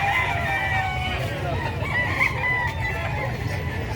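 Chickens and roosters in a crowd at San Carlos City Livestock Market cluck and crow steadily over a dense, low background din, while people talk nearby.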